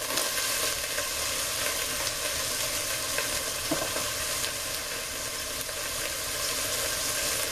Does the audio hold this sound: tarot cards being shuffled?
no